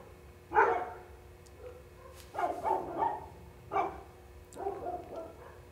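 Dogs bark in four separate bouts, each a quick cluster of two or three barks, fairly distant and soft against a low steady background hum, with pauses between and no talking.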